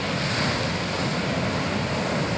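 Ocean waves crash and wash over rocks along the coast at Bermeo in the Basque Country, a loud continuous roar of surf with wind buffeting the microphone and no voices.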